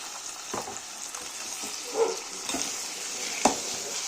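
Marinated mushrooms coated in chilli, turmeric, coriander and pepper powders fry in hot oil with a steady close sizzle, broken by several scraping stirs and light knocks of a spoon against the pan.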